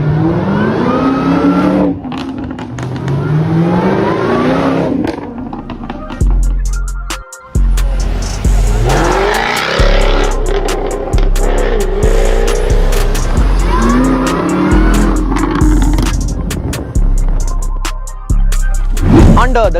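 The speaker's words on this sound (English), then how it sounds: "what's under the hood is probably one of the most antisocial, obnoxious and bewildering V8s you will ever hear" A modified supercharged 5-liter Jaguar F-Type V8 with an aggressive aftermarket exhaust and 550 bhp, revving loudly up and down in repeated bursts with crackles, close by.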